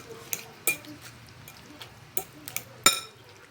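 Onion and tomato are tossed together for a salad in a bowl, giving scattered clinks and scrapes of a utensil against the dish, moderately close and alone with no talk.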